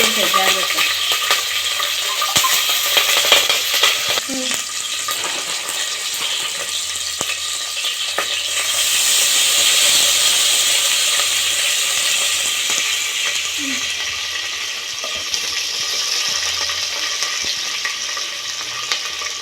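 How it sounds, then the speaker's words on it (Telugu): Cumin, green chilli and onion tempering frying in a pot of oil, a steady close sizzle and crackle that swells midway and holds at an even level throughout, with no talk. "గిన్నెలో కాస్త నూనె పోసి ముందుగా జీలకర్ర, పచ్చిమిర్చి, ఉల్లిగడ్డ పోపులో వేసుకోవాలి"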